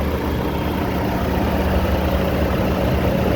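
A Toyota RAV4 with a turbo and manual gearbox, its engine dry and free of oil leaks, runs at a steady idle: a close, even low hum and rumble that never changes over a few seconds, with no voices.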